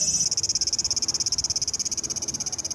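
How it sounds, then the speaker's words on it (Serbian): A loud, cricket-like insect calling in Japan, a continuous high buzzing chirr pulsing in a rapid, steady rhythm that starts strong and carries on close by with no voices. "to je neki njihov cvrčak ekstremni"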